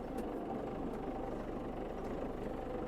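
An MTZ 952.3 tractor engine rumbles steadily in first gear as it pulls away, a low, even diesel drone at moderate distance with no other sounds.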